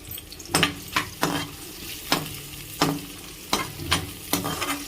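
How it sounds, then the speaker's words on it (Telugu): Egg fried rice sizzles in a pan on a medium flame, with a low constant frying hiss broken by about nine sharp scraping strokes of a spatula at an irregular pace, close up and without talk. "కొంచెం మీడియం ఫ్లేమ్లో దీన్ని ఫ్రై కానిద్దాం"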